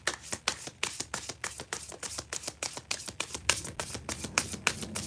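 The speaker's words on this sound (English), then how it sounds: "I shuffle these cards a certain way" Rapid, crisp riffling of a deck of tarot cards being shuffled, a steady run of sharp flicks close to the microphone, no talking.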